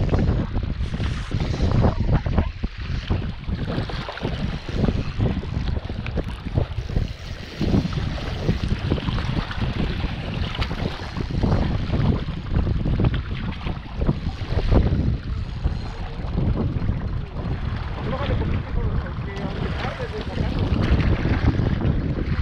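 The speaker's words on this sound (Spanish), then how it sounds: "ahorita está muy ventoso y da pena dejar el teléfono así" Heavy, continuous wind buffeting a phone microphone while fishing from a boat, a loud rumbling roar that never lets up, with faint water and boat noise mixed underneath.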